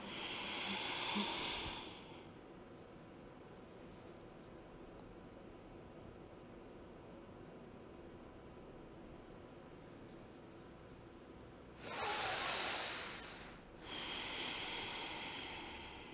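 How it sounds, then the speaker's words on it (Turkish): Full yogic exhalation during a bandha breathing exercise: a soft, breathy whoosh of air at the start, a long near-silent hold, then another clear airy breath near the end, close and quiet. "Karındaki havayı tamamen boşalt."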